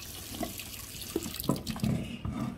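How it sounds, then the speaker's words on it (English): Stockfish is rinsed under a running kitchen tap, with water splashing and gurgling in uneven bursts into the sink at close range. "I wash my stockfish."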